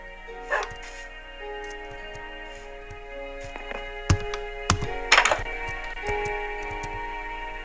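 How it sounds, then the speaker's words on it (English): Dogs in the Minecraft survival game give a few short, sharp barks and yips over steady ticking game sounds, with a soft voice briefly in the background. "Hi, doggies."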